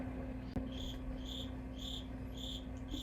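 A cricket chirps indoors in a home craft room, giving a steady run of short, evenly spaced chirp bursts over a low room hum, with one brief click early on.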